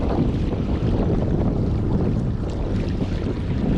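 Bixpy Jet J2 electric motor pushing a fishing kayak at full throttle on open water, a steady loud rush of water and wind buffeting with no pauses, close to the microphone, with no speech.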